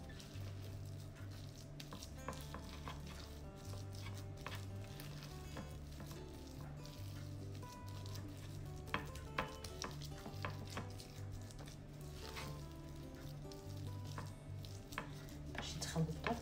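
Chocolate chips being mixed into a sugar-free, fat-free healthy cookie dough, heard as soft repeated scraping and squishing strokes at low volume, with faint background hum and no talking.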